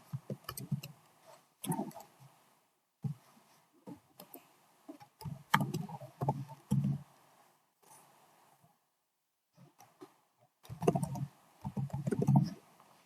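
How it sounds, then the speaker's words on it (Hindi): Someone types on a computer keyboard, entering a random email address into a sign-up form, in irregular bursts of close clicking keystrokes separated by short pauses. "तो इधर मैं कोई भी रैंडम ईमेल एंटर कर सकता हूँ"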